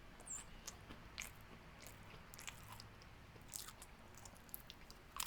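British military ration apricot spread being chewed close to the mic, with quiet, soft wet mouth clicks and smacking scattered across a low-level background for about five seconds.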